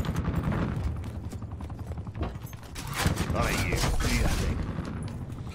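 Gunfire in a first-person shooter video game as players shoot down a UAV scorestreak, heard as dense, continuous crackling bursts within a busy battle mix, with a voice talking over it.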